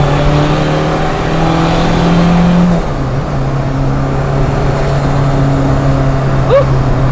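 A tuned car pulls hard in fourth gear with a loud, steady engine drone from inside the cabin, the pitch briefly shifting partway through.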